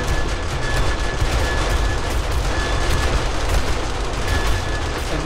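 Continuous 9mm automatic gunfire from mounted guns during a zombie horde night in the video game 7 Days To Die, a dense, loud, unbroken rattle of rapid shots that fills the whole stretch with no pauses.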